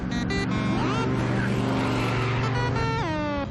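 A car engine in the Transformers Prime cartoon roars loudly and continuously as the vehicle races, with a rising whine and revving pitch sweeps near the end.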